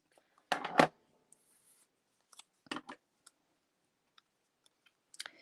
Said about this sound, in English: we're basically just going to cut it out with a scissors